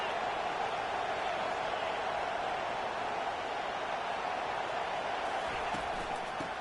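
Steady roar of a packed college football stadium crowd with the home team pinning the opponent deep in their own end, a dense continuous wash of cheering and noise at even loudness throughout.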